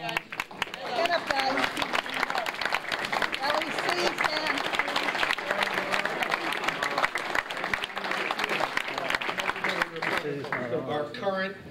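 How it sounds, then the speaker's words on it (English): A round of applause for a lodge executive committee at a State of the Lodge address, steady crowd clapping throughout with people talking and calling out over it. "give him a round of applause"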